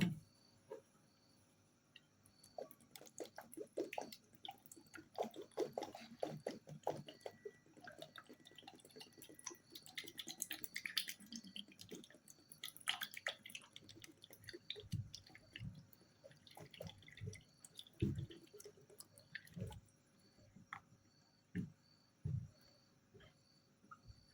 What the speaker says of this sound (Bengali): এখন আমি আলুগুলোকে সুন্দর পরিষ্কার পানি দিয়ে ধুয়ে নিব